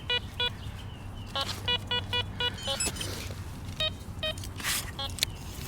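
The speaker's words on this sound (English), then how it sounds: "This thing's beeping off now." Short electronic beeps from an X-Terra Voyager metal detector finding coins repeat in quick pairs and clusters, faint and high-pitched, over a low background hum with some rustling.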